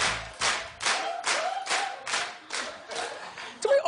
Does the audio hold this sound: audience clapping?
yes